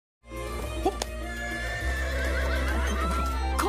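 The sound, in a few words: horse-drawn carriage, horse neighing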